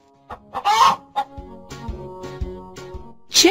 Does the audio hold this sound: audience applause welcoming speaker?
no